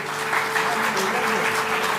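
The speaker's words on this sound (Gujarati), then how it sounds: "તો જયેન્દ્રસિંહ જાદવ માટે એકવાર જોરદાર તાળીઓ થઈ જાય" Applause from an audience at a Gujarati ghazal collection launch and poetry gathering, a steady wash of clapping hands that fills the whole moment without pause.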